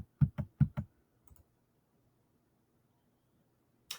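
Quick run of four sharp computer mouse clicks close to the microphone while working in Adobe Illustrator, then a softer pair of clicks, near silence, and one last click at the end.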